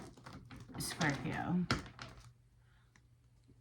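Quick papery clicks and riffling taps of tarot cards being shuffled, close and crisp, with a voice speaking briefly over them.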